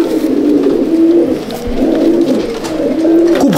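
Pigeons in a loft at Barrackpore coo in a constant, loud, close murmur, with several birds' low rolling calls overlapping throughout.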